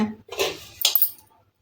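The metal lid of an idli cooker steaming kozhukattai is set down and closed with a couple of short, close metallic clanks and clinks, then quiet.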